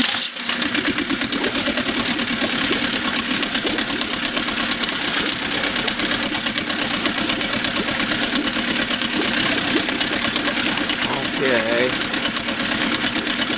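An all-original 1956 Scott-Atwater 7.5 HP outboard motor starts and runs loudly and continuously with a rattling, buzzing drone throughout, close up, with a voice speaking briefly over it.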